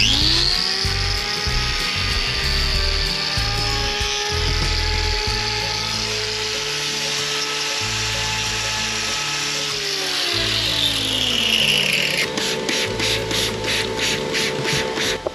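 A power grinder trims a cow's overlong hoof toe, its steady whine running continuously and loud up close, with a shifting pitch as the tool bears on the hoof and no talk over it.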